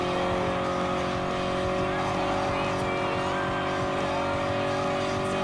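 Race car engines roar loudly and continuously in Gran Turismo Sport during a daily race with a Toyota 86 GT and Subaru BRZ S, sustained high revs with tire squeal, and a voice talks faintly beneath.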